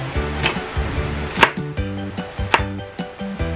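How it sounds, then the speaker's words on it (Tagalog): A knife cuts through a halved white onion on a board, giving three crisp, separate chops over steady background music, with no talking. "Sa onion naman, sa white onion, cut nyo lang siya into half. Then, slice nyo lang siya."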